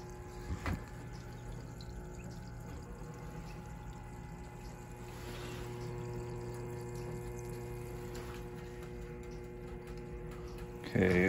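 A small electric water pump hums steadily in a heated quail waterer setup, a continuous low drone with faint trickling and a few clicks, near and alone.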